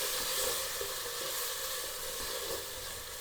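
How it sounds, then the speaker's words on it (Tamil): Ground masala sautés in oil for a Coimbatore-style vegetable dum biryani, giving a steady, even sizzle with a broad hiss that holds close and constant throughout and no voices. "நல்ல எண்ணெய் பிரிய இது வதக்கிக்கணுங்க."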